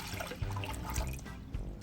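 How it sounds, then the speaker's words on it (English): Water is poured into a cooking pot in a home kitchen, a loud rushing splash that runs continuously with small surges and no talking. "Now we pour water into the pot again."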